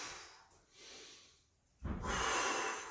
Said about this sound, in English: The breathing, in through our nose, out through pursed lips.